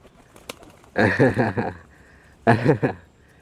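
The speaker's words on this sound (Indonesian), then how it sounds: "ini merpati" Two bursts of throaty, pulsing pigeon cooing, each about half a second to a second long, fairly close, with a short pause between them and quiet around them.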